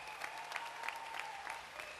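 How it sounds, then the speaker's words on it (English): Audience applause at a city council meeting with many community activists: steady, moderately faint clapping from a crowd, continuous throughout with no clear voices. "Give yourself a round of applause."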